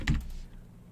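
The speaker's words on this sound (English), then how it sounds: "we're typing exactly the same thing over and over again" Keys on a computer keyboard are struck in one quick, close clatter while entering code for a basic LED lesson, followed by near silence.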